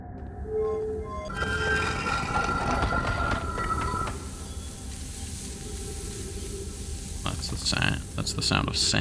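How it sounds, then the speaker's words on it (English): Sand pours in with a steady rushing hiss in the video game Outer Wilds. Faint tonal sounds and later crackles sit on top of it, with no voices. "That's the sound of sand falling in."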